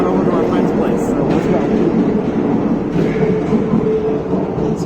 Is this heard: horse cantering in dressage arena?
no